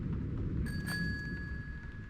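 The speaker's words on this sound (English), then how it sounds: "And it just threw that bell at me" A small bell thrown by a poltergeist in Vampire the Masquerade: Bloodlines lands with a single clear ring partway through and sustains faintly over a steady low rumble of game ambience.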